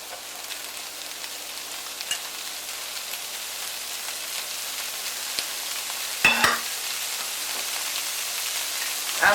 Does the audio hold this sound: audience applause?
no